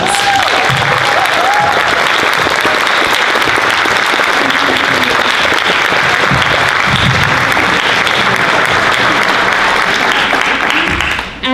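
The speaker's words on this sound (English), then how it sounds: "but let's give them a round of applause." A school board candidate forum audience gives a sustained round of applause, dense loud clapping that holds steady for about eleven seconds before stopping abruptly at the end.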